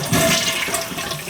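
An old 3.5 gallon toilet, with a flush bucket and freshly rebuilt, flushes with a loud, close, continuous rush of water.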